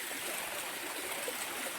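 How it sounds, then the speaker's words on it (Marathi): A village waterfall runs at night, a soft continuous rush and trickle of flowing water, fairly faint and steady with no speech. "धबधब्याचं पाणी आहे सध्या पाणी आहे"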